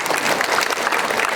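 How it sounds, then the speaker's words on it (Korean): A church congregation claps in praise to the Lord during a sermon, a brief, dense burst of many hands applauding together, loud and close. "다시 한번 주님께 영광의 박수를 드립니다."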